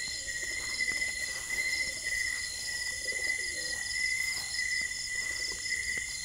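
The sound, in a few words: pigeons cooing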